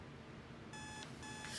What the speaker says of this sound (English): I'm doing what alarm clocks do.